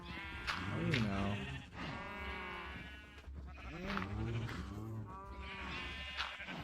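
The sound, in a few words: sheep bleating in Minecraft video game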